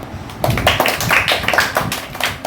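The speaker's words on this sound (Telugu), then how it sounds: "క్లాప్స్" Children at a weekend tuition activity session clap their hands in a quick, rhythmic run of claps close by, with faint voices in the background.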